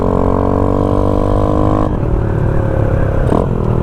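A 1972 Honda Chaly motorcycle engine runs loud and steady, its harmonic drone dropping to a lower idle-like pitch partway through, with a brief clatter near the end.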